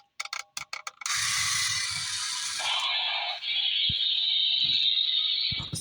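A chromed purple metallic Geotrax Midnight Flier remote control toy train with its wheels running, giving a steady mechanical whir and rattle after a few sharp clicks, close and alone with no talking.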